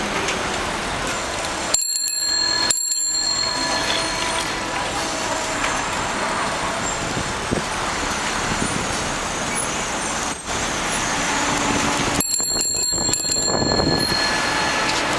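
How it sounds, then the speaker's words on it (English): Bicycle bell ringing during a morning bike commute in Beijing, bright metallic tones over steady roadway and traffic noise with passing vehicles, sounding in short bursts near the start and again toward the end. "That's my bell."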